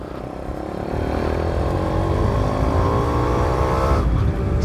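A modified Yamaha RX 135 five-speed motorcycle engine revs and drones steadily and loudly nearby, its pitch climbing gradually, with a brief dip near the end.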